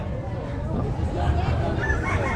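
Chickens cluck and crow in a busy poultry market in Lemery, Batangas, set against a steady crowd hubbub with people talking throughout.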